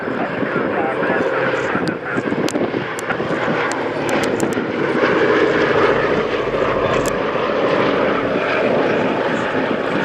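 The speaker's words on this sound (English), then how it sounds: "the beautifully harmonised sound of the four Wright Cyclone radial engines that power the B17" B-17 Flying Fortress with four Wright Cyclone radial engines displaying at the Scampton Airshow, a loud, continuous droning engine roar with some wind buffeting, heard close and steady throughout.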